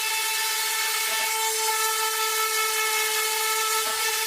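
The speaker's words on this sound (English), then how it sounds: "This is just a small hand trim router that I have." A small handheld trim router fitted with a 1/4 inch radius round-over bit cuts along the edges of wooden shelves, giving a steady, high, continuous whine that holds level throughout with no talking.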